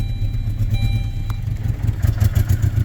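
A cheap old beater car engine idles roughly on bad gas. It makes a close, uneven, loping low rumble with irregular pulses and a slight clatter throughout.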